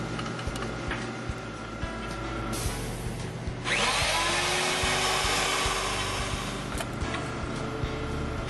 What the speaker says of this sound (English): Cylindrical door latches are easy to install with the door drilling fixture.